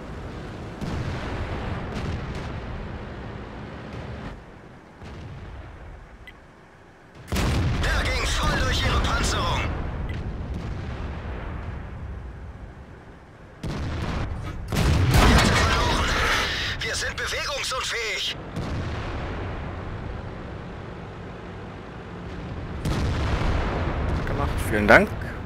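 Tank guns firing in World of Tanks, several heavy booming blasts with long rumbling tails spaced through the stretch, loud and close, mixed with engine rumble and game effects while someone talks over parts of it.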